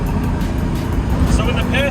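Turbo diesel swapped Datsun 240Z cruising on the highway at low revs in top gear, a steady loud low drone with road noise, while someone talks over it.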